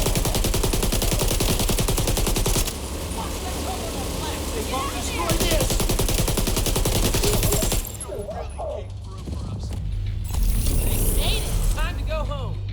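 Sustained rapid automatic fire from a deployed turret in The Division 2, loud and continuous with brief pauses, mixed with bursts of other game gunfire and effects while people talk over it.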